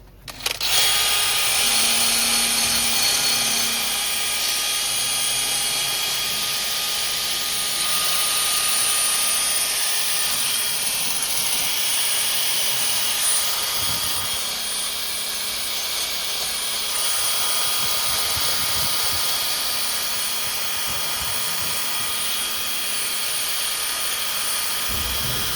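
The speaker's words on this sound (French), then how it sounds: "Résultat après ponçage." A power sander grinds continuously and loudly on rear brake parts of a Mercedes A-Class W177, a steady high-pitched whir lasting throughout with slight variations in pressure.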